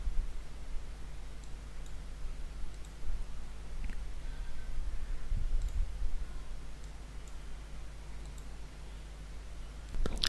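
Computer mouse clicks while installing SQL Server 2012 on a PC, a few faint, sharp clicks spread over a quiet background hum with no talking.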